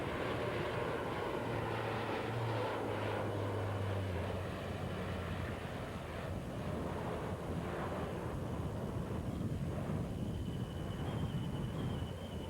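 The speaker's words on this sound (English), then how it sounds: "Here the final landing demonstrates the smooth response of the engines" A C-130 Hercules transport aircraft lands at an Australian airshow, its engines a steady, fairly faint broadband drone mixed with wind noise, with no talk.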